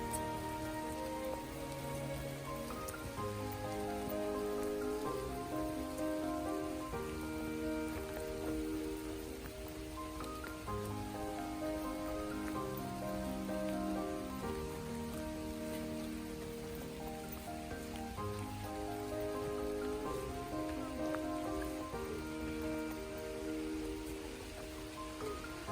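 Rain falls steadily on surfaces at a campsite in Canterbury, a soft continuous patter with faint music or tones in the background and no talking.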